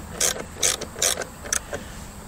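A mechanical lift on an HM126 sawmill raising the end of a white ash log, giving four or five separate ratcheting clunks in a steady rhythm, loud and close with no voices.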